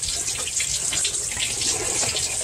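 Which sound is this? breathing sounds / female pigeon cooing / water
water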